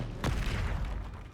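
A Confringo fire spell goes off in Hogwarts Legacy, a single sharp blast with a bright crack followed by a brief rumbling tail that fades across about a second.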